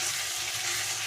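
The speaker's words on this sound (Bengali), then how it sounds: "মশলাটা আমার 2 মিনিট ধরে সুন্দর করে কষে নিয়েছি।" Spiced masala paste sizzling in a pan, a steady close hiss of frying without pause for about a second.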